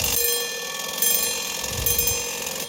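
A Badische striking alarm clock rings in a continuous loud metallic bell clatter, its rapid hammer strikes blending into a siren-like wash that swells slightly twice over a few seconds.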